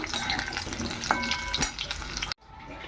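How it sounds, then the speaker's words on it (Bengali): Potatoes fry in hot oil in a pan with a steady, close crackling sizzle that cuts off abruptly near the end. "প্রথমে আলুগুলো ভেজে নিচ্ছি আলুগুলো লাল লাল করে ভেজে নেব"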